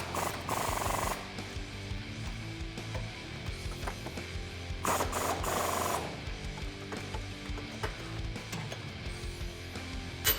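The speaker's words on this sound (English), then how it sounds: "In order to tighten down the hardware on the brackets, we'll need a 16 mil socket" Ratchet wrench with a 16 mm socket tightening bracket bolts for Barricade oval side step bars on a 2009-2018 Ram 1500, giving repeated clicking ratchet strokes in bursts, close and moderately loud with no talk.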